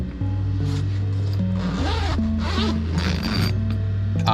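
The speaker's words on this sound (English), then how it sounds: "Close the door, zip it up to keep all of the fumes out." Fabric zipper of a 3D printer enclosure being drawn closed, a steady rasping zip running several seconds over a constant background hum from the printer.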